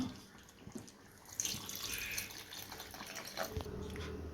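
Water poured in a short, gentle stream into a pan of chicken gravy, a soft splashing trickle that starts partway through and carries on steadily to the end, fairly close and low in level.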